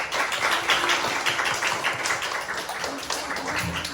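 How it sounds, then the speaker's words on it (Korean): Church congregation at a Sunday service claps together to welcome a first-time visitor, a steady wash of many hands at moderate level with faint low voices beneath. "처음 오셨는데 박수로 환영해주시다"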